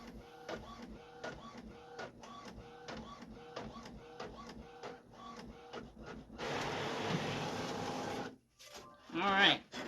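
A printer runs through printing a card, with a quick run of rhythmic mechanical clicks and thumps from the paper feed. A louder whirring stretch follows, then more clatter near the end.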